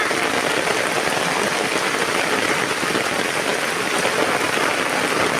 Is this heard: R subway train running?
no